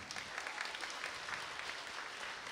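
Faint, distant applause from an audience at a children's reading festival, an even patter of clapping with no voices on top.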